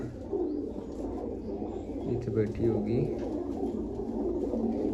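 Pigeons, including a female with a black forehead mark, coo in low, throaty, rolling calls close by, continuous over five seconds, while someone talks briefly over them.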